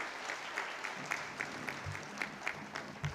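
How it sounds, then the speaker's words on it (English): An audience applauds a speaker at the close of a public lecture meeting on direct tax provisions, giving a steady, moderately faint wash of clapping with small recurring swells, heard alone without talk. "please join me in a loud round of applause to our speaker"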